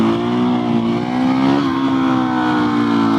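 A Husqvarna 701 single-cylinder motorcycle engine revving in first gear during a wheelie, a loud, close, sustained drone that holds its pitch with a slight dip midway.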